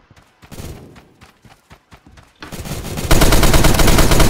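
Desert Eagle pistol fire in Roblox Phantom Forces: a series of sharp, separate shots in a quick irregular rhythm, then a louder, denser burst of continuous gunfire near the end.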